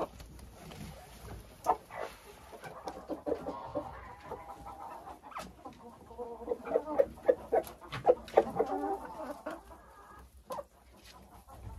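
Several laying hens cluck and murmur near the microphone, with soft, irregular calls that bunch into a busier stretch of clucking toward the end, while faint farmyard noise stays in the background.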